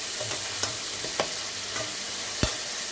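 A large tomato goes into a hot frying pan and is stirred. A steady sizzle runs throughout, broken by a few sharp scraping strokes of the spoon, close and moderately loud.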